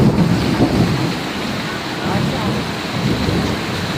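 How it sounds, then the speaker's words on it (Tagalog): Heavy downpour during a tropical low-pressure storm in the Philippines, with rumbling thunder, a dense, steady roar of rain on surfaces and gusty wind noise buffeting the microphone. "Lakas ng ulan. Grabe ho."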